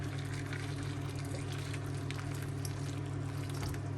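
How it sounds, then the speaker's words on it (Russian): Boiling water is poured over jar lids while canning adjika, a steady, continuous rushing pour with a low hum underneath and no voices. "Заливаем кипятком и оставляем на несколько минут."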